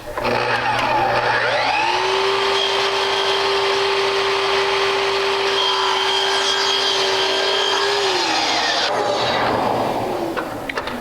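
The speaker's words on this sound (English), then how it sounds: "Let that saw stop before you pick that piece up out of there." Power saw with a spinning blade cutting wood molding, a loud sustained whine that rises, holds steady for several seconds and then spins down, close and alone.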